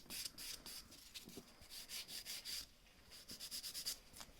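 Acrylic nails being buffed, a soft, quiet, rapid back-and-forth rubbing with short scratchy strokes in an uneven rhythm, close up and faint.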